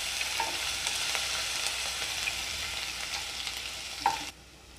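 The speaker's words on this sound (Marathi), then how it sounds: "लसूण आपल्याला थोडा लाल होईपर्यंत परतून घ्यायचा आहे।" Cumin and garlic sautéing in a pan for a quick rice dish make a continuous close sizzle with a few light stirring taps, then cut off abruptly to near quiet.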